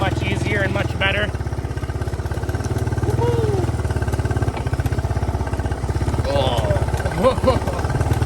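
A Yamaha YTM200 three-wheeler engine runs close by with a loud, steady, rapid single-cylinder putter, partly covered by people talking over it.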